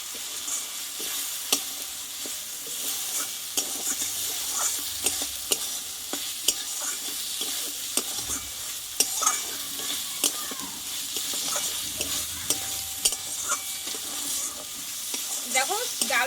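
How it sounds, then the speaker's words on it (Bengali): Soaked mung dal frying with spices in a pan, a continuous hissing sizzle punctuated by regular sharp spatula scrapes and taps against the metal, close and moderately loud. "মুগ ডালটা আমি ঢেলে দেবো এই মশলার সঙ্গে একটু আমি একটু ডালটা একটু ভেজে নেবো"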